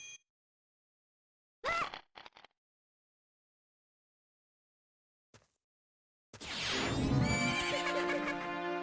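A horse in the Majora's Mask video game lets out one loud, full whinny that fills the end of the clip, after brief bursts of game sound and silence.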